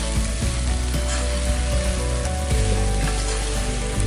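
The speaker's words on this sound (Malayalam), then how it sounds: "ഇനിയിപ്പോൾ ഞാൻ അതിലേക്ക് കപ്പയിട്ട് ആഡ് ചെയ്യാൻ പോവാണ്" Pieces of lightly fried cassava added to a hot pan for chilli kappa, sizzling and crackling loudly and steadily with a few stirring clatters, no talk.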